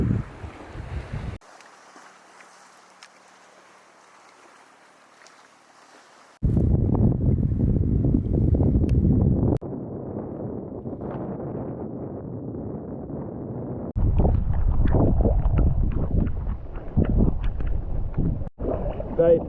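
A kayak paddles through tidal water in the Chilean fjords: bursts of splashing and rushing water mixed with gusty wind noise, a voice talking at times, and a quiet pause between loud stretches.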